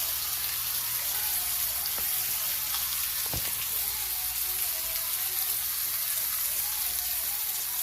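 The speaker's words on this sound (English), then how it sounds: "So searing on high heat" Meat searing over high heat in a pan, a steady bright sizzle and crackle running unbroken, close and fairly loud, with a brief clunk partway through and no talking.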